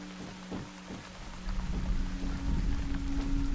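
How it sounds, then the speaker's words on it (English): Rain in the video game Once Human, a steady wash of rainfall that swells louder partway through, with low rumbling underneath. "every so often you play a game and the rain sounds are good and they're loud enough and you're just like, oh, that's nice"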